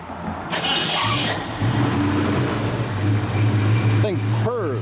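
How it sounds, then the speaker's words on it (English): A 1965 Ford Falcon with dual exhaust cranks and starts, then settles into a steady, loud, low idle rumble close by, with brief voices near the end. "Fire it up."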